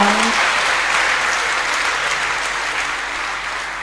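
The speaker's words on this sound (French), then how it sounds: "acclame, acclame, acclame le roi des rois" A church congregation claps loudly and continuously, a dense, even wash of applause that holds strong throughout and eases slightly toward the end.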